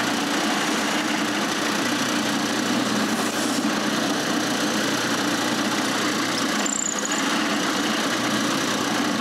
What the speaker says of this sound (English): I need to drill a hole right through them.